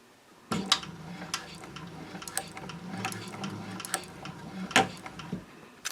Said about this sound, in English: I'm ready to stitch in the ditch across the top of the pocket